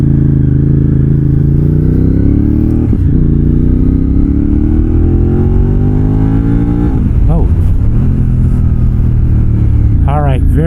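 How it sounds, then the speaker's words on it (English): A Yamaha X-Cape 1200 adventure motorcycle roars under maximum throttle, its exhaust loud and close with rising engine pitch through several gear changes, the engine note dipping and climbing again; a rider talks over the din. "God, I hope you guys can hear me over this exhaust."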